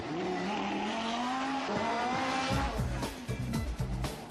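High-performance sports car engines, including a Nissan GT-R, roar and rev nearby, with a rising whine giving way to sharp, throaty bursts and crackles.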